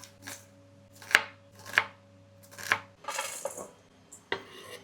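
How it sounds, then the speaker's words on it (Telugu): A knife chops onion thinly on a board in a few crisp, evenly spaced strikes, then faster lighter cuts follow, all alone and fairly close with a faint steady hum behind. "ఉల్లిపాయ కూడా సన్నగా కోసుకోవాలి ఫ్రెండ్స్"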